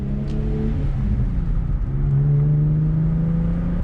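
A car engine drones and revs steadily through a turn, loud and close from inside the vehicle. Its pitch rises slightly partway through, and no one speaks.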